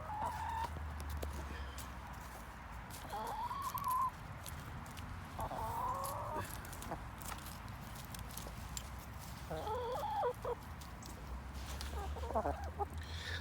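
Hens clucking and murmuring while pecking at a pile of frozen tomatoes, with soft intermittent clucks over a steady low background hum and scattered scratching.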